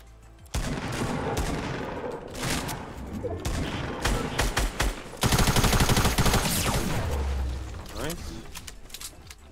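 Heavy Fortnite gunfire fills the scene, rapid volleys and automatic bursts starting abruptly and growing louder midway, with voices talking over the shooting.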